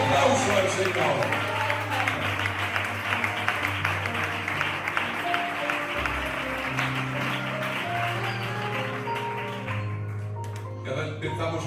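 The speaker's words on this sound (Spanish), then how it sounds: "Dale ese aplauso al Señor." Applause from a church congregation at an evangelical service, dense and steady clapping over sustained music tones for most of the stretch, thinning out near the end.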